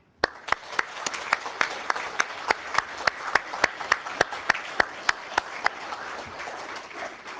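An audience at a council meeting claps for the council members and police, a thin spread of hand claps with sharp, evenly spaced loud claps standing out over a steady patter, fading toward the end.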